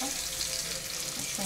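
Fish frying in a pan, a steady close sizzle with broad crackling hiss filling the short stretch, no voices over it.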